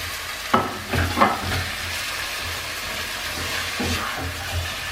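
Onions sweating in a pan as a base for cheat's burritos, holding a steady soft sizzle with a few louder scrapes of stirring near the start and later on.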